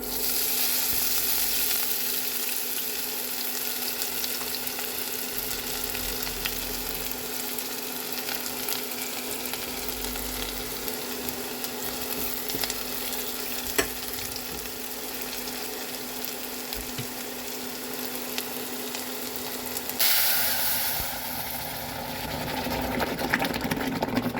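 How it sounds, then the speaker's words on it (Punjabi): Crushed green garlic sizzles in hot oil for a dal tadka, a steady, moderately loud frying hiss with a low hum underneath. It swells briefly near the end and nobody speaks. "ਬਸ ਮੈਂ ਇਹਨੂੰ ਨਾ ਹਰੇ ਲਸਣ ਦਾ ਲਗਾਵਾਂਗੀ ਇਹ ਮੈਂ ਹਰਾ ਲਸਣ ਕੁੱਟ ਲਿਆ ਸੀ"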